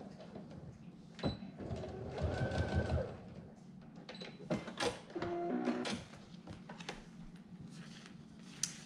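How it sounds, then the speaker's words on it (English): A sewing machine stitches webbing onto a pack close to a D-ring, in short mechanical bursts separated by brief pauses and handling clicks, near and fairly quiet. "I'm gonna overhang the webbing by 1 inch and then sew nice, tight,"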